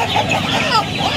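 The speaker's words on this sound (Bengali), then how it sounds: "হ্যাঁ, এটা মোরগ।" Chickens clucking and calling close by at an Uluberia poultry market, a busy overlapping jumble of bird sounds throughout the short stretch.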